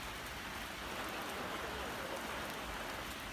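Rain falls steadily as a constant, even hiss of drops on surfaces, continuous and fairly soft throughout, with no other distinct sounds.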